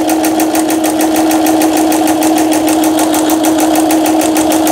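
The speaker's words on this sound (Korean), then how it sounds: "지그재그 바느질이 되겠습니다." A Singer household sewing machine running a zigzag stitch, loud and steady with a rapid regular needle clatter over a constant motor whine, heard up close with no talk.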